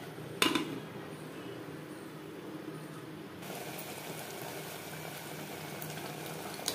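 Mutton being braised over high-to-medium flame in a covered pan, a steady low bubbling simmer with a sharp clink near the start, continuing evenly and close by.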